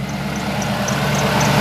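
A fuel-injected 1965 Ford F100 pickup with dual exhaust idles close by, giving a steady, even low rumble with no revving throughout.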